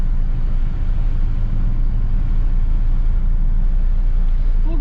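A 1959 Chevy Bel Air rolling down a street, heard from inside as a steady low engine rumble and road drone, with a person talking over it.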